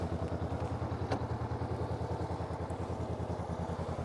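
A motorcycle on a riding training course, its engine chugging in a steady rapid pulse at low speed, close and continuous, with a faint sharp click partway through.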